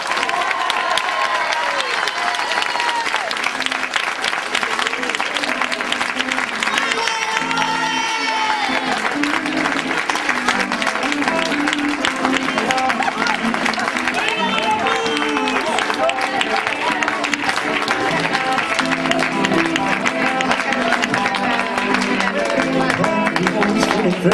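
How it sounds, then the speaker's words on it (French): A large crowd at a Christmas children's theatre show claps and cheers continuously, with music playing underneath and occasional voices rising over the sustained applause. "Donc je vous demande d'applaudir très fort"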